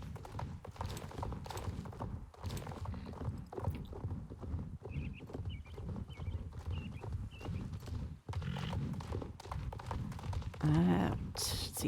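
Horse hooves clip-clop steadily in the Star Stable Online video game, a continuous rhythmic walking beat running throughout with game background sounds and a brief whinny-like tone near the end.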